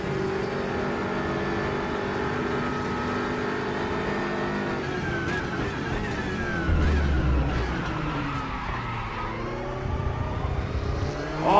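GT3-class race cars in the RaceRoom racing game at Hockenheimring accelerate through an online ranked race. Engines hold steady, then rise and fall through the gears in one continuous drone. The sound has no commentary over it.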